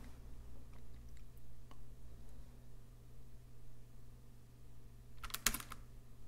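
Soft, quiet keystrokes on a computer keyboard, scattered light taps over a low hum, ending in a short quick cluster of louder clicks.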